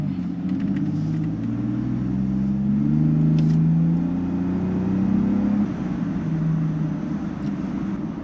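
A tuned Gen 2 Ford Raptor truck accelerates at half throttle, heard from inside as a loud, continuous low engine drone that rises in pitch through shifts, with no talking.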